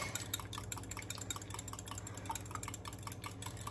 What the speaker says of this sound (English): And then I'm just gonna whisk, whisk,